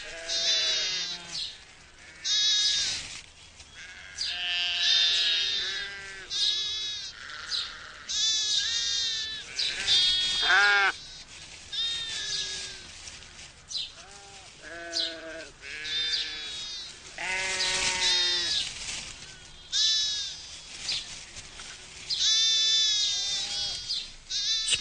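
A ewe on a British farm in spring bleats repeatedly while giving birth to twin lambs, with loud, close, wavering cries coming in quick succession and brief pauses between them.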